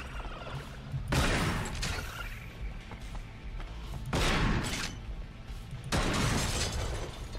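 Shotgun blasts in a video game, three heavy booming shots spaced a few seconds apart, each followed by a rough decaying rattle.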